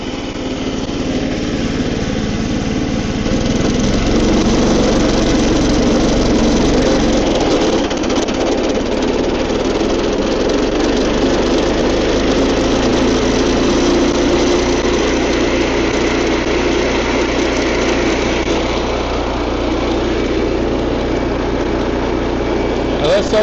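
A gas-powered Stout Designs TrailBlazer-HD engine runs loud and steady with a buzzing, high-pitched drone that barely changes throughout.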